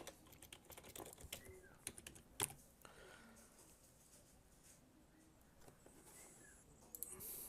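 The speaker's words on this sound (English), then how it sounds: "Type in the password." Password typed on a computer keyboard, a quick run of soft, irregular key clicks with a few sharper taps, faint and close, with brief pauses between bursts.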